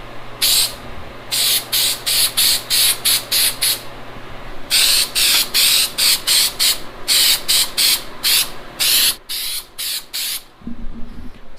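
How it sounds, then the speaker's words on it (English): A rapid series of short, sharp aerosol spray hisses, close by, coming in quick bursts with a brief pause before a second run of sprays. "I got this spray adhesive stuff"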